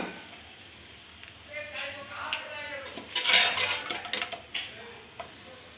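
Chicken being stirred with chicken masala in a pan for a chicken kurma, with scraping and clinking of a utensil against the metal and a soft sizzle, growing louder midway with several sharp scrapes.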